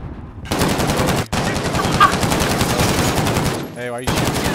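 Sustained automatic gunfire from the video game Call of Duty: Modern Warfare rattles loudly and continuously, broken by a brief gap and a short pause near the end.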